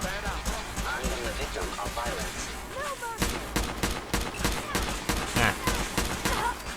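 Rapid gunfire in Fallout 4 during a fight against the Brotherhood, dense volleys of sharp cracks in quick succession, with warbling tones and chatter over the first half.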